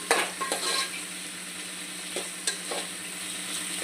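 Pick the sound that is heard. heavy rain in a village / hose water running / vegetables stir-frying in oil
vegetables stir-frying in oil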